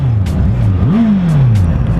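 A 2018 Honda CBR650F motorcycle engine revs high in neutral, close and loud, its pitch dipping and then rising quickly before sliding steadily back down.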